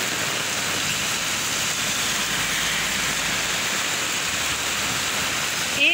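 Heavy rain pours in a dense, continuous roar from start to finish, loud and steady, with a brief sharper rustle right at the end.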